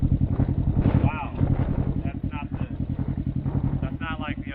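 A Can-Am Ryker with an aftermarket RLS exhaust runs close by with a loud, throbbing low pulse, and someone talks over the engine throughout.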